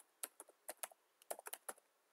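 Keys tapped on a computer keyboard while filling in a Windows form, about a dozen crisp clicks in short irregular bursts, close and clear against a quiet background.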